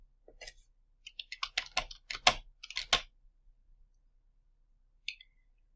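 Typing on a computer keyboard, a quick close run of crisp key clicks for about three seconds, then silence broken by one last tap.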